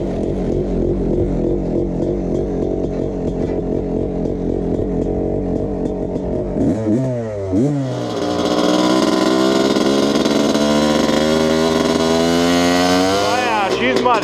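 A Honda CR250 two-stroke dirt bike idles with a rough, rapid putter, then revs hard in rising and falling bursts and settles into a loud, buzzy high idle close by.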